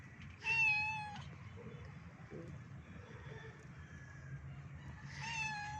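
Two short meows from a cat, one near the start and another near the end, over faint background rustling and low murmur.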